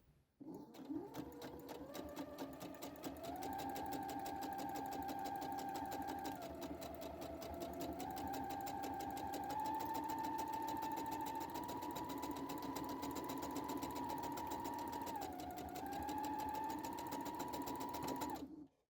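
A sewing machine stitches fabric along a seam guide in one long run, its needle humming and rattling rapidly and evenly while the speed rises and dips slightly before it stops.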